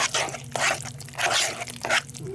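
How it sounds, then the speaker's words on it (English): A runny egg mixture with vinegar is stirred in a bowl, giving several wet squishing, sloshing strokes in an uneven rhythm, close and fairly quiet, with no talking. "Now let me stir all of this up."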